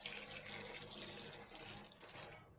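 Green tomatoes being washed under running water in a kitchen sink, a steady close splashing stream with faint rubbing and sloshing, and no voices.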